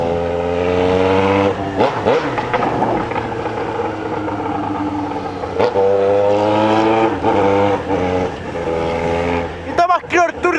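A Jaguar XJ6 with a straight-pipe exhaust drones loudly and steadily on a night drive, its note swelling and dipping with throttle. A person talks over the continuous engine noise throughout.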